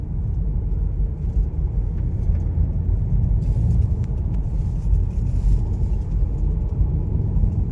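A 2025 Volkswagen Jetta SE accelerates onto a freeway, its cabin filled with a steady, loud low road and engine rumble that holds constant throughout, with no talking.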